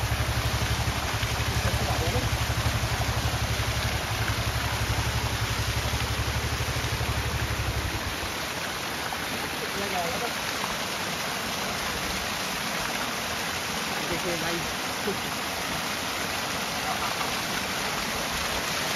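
A small mountain waterfall beside the trail to George Everest near Mussoorie rushes in a steady, close hiss of falling water, with a lower rumble mixed in during the first several seconds before the flow continues alone.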